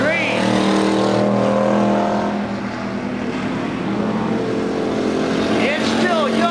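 Pure stock race cars roaring around the Oklahoma Sports Park track during a feature race, engines loud and sustained with passing revs rising and falling, a voice heard over the noise.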